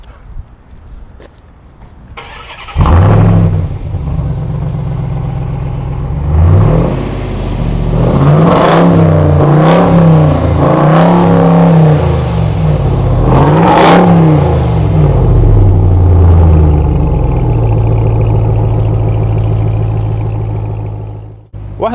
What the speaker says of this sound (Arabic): حنخلي حبيبنا احمد يدخل السياره الان ويسمعنا صوت الشكمان الطربي